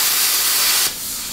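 A Langmuir Crossfire Pro CNC plasma cutter cuts a steel flange, giving a loud, steady, broadband hiss that drops abruptly to a softer hiss near the end.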